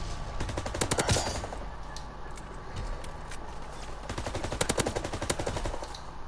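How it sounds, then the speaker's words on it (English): Rapid bursts of raspy automatic gunfire from a weapon in a World War II video game, several quick volleys separated by short pauses, fairly quiet overall. "Why does my gun sound like so raspy?"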